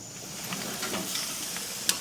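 Shrimp kabobs sizzle steadily on a very hot BBQ grill running around 600 degrees, a continuous crackling hiss with a sharp pop near the end and no talking.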